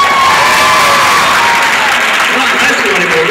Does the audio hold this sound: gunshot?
no